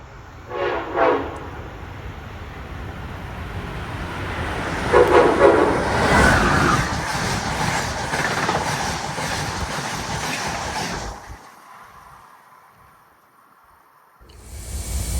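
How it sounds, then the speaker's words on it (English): An Amtrak locomotive hauling a Northeast Regional passenger train sounds two horn blasts, then roars past loud and close with rumbling, clattering wheels before fading to quiet, with a rise of noise again at the end. "Right on the heels of the 654 is sister locomotive number 646 with another Northeast Regional."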